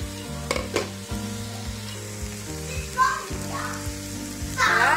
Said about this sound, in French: je laisse tout ça cuire avec les oignons